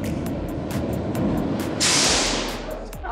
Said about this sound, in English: Hey, the train.